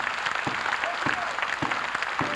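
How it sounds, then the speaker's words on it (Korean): Steady applause from a church congregation, a dense patter of many hands clapping at moderate distance throughout. "그분께 감사의 박수를, 고마움의 박수를 힘껏 올려드립시다"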